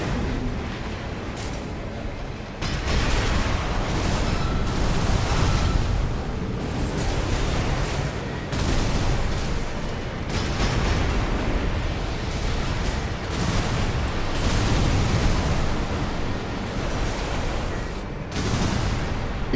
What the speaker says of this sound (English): I can just go to close range and just fire bazookas